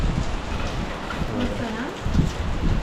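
Steady rain pours down in a dense, continuous hiss onto an open area of a city apartment with tall buildings opposite, with faint voices murmuring underneath.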